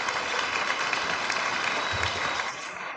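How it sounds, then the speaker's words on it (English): A stand-up comedy audience applauds the guitarist Pigar Rene with a dense, steady wash of clapping that fills the room, holding even throughout before easing slightly at the end. "Pigar Rene, ladies and gentlemen, applause for him, ladies and gentlemen."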